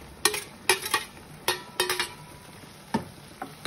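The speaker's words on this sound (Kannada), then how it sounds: "ಈಗ ನಾವು ಫ್ರೈ ಮಾಡಿದ್ವಲ್ಲ ಬೆಂಡೆಕಾಯಿ ಅದನ್ನ ಆಡ್ ಮಾಡ್ತೀನಿ" Fried okra tipped into simmering bhindi masala and stirred in a pan, giving a string of sharp clinks and scrapes of a spoon against the pan over a faint sizzle, close and without talk.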